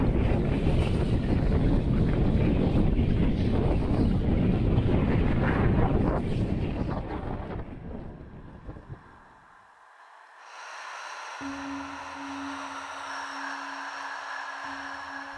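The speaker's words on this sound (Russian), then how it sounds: "слышно тот ветер, который у нас был" Strong gusting wind roars loudly and continuously across the microphone on a rocky mountain climb, then drops off to a quieter, steady wind with a faint low hum.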